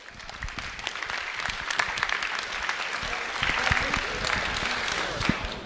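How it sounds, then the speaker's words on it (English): Audience at a university Diversity Week presentation applauding its guests, a steady wash of many hands clapping that swells slightly toward the end, with a few sharper claps standing out. "let's have another round of applause for our guests today."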